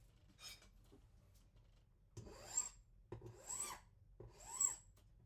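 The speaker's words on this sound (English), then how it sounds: "So I'm now filing down to that line I scribed on the inside" A metal file rasps against a silver jewellery pendant, working it down to a scribed line: three distinct, close strokes with bright, gritty edges, quiet and unaccompanied by talk.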